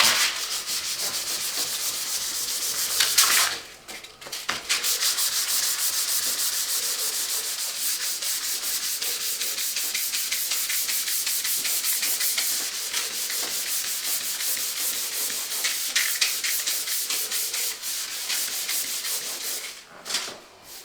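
Hand sanding of Jotun Easy Primer with 400-grit sandpaper: a steady, close, loud rasping scrub with rhythmic strokes and two short pauses.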